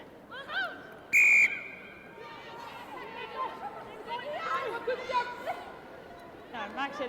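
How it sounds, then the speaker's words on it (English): A referee's whistle blows once, sharp and loud, at a women's rugby sevens match, rising over steady crowd chatter and commentary voices that run throughout. "The second the whistle went, they sprinted back."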